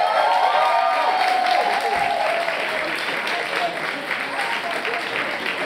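Applause in a ballroom at a ball event, a crowd clapping loudly with some scattered cheers, a dense sustained patter that eases slightly toward the end, with a voice over it briefly.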